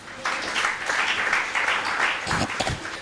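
A church congregation applauds at a Pentecost service, a sustained burst of many hands clapping together at moderate distance, with a few louder claps near the end.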